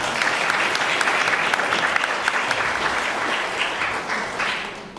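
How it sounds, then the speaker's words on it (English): An audience at a panel discussion at the Michigan State Capitol breaks into sustained, dense applause that stays loud and even for the full stretch. "Let's give a round of applause to our panelists again."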